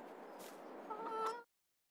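Chickens in a Farming Simulator 22 coop cluck softly and briefly over faint background noise, with a short squawk near the end before the sound cuts off abruptly.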